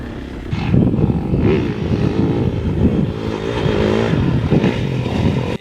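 GasGas ES 500 dual sport trail motorcycle with a 500 cc engine, running loud and close with a rough, pulsing throttle roar that rises and falls steadily, without speech.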